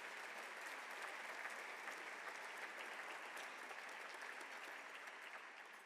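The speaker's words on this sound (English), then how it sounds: "Would you give them a round of applause?" Audience at a public leadership awards ceremony applauding, a dense, even wash of clapping that holds steady for several seconds at a moderate distance.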